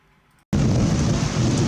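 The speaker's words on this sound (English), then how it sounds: "Thunder and lightning in the sky too at the same time." A sudden roar of a freezing rain and thunderstorm in Quebec bursts in after a near-silent moment, then a loud, steady downpour rumble fills the rest.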